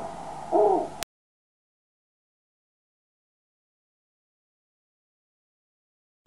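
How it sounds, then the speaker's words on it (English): A snowy owl's hoot, one short low call lasting under a second, clear and close, followed by silence. "Snowy owl."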